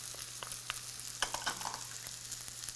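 Bell peppers and sweet yellow onion sautéing in a pan for vegan dirty rice, a faint steady sizzle with scattered small pops and crackles, alone without speech.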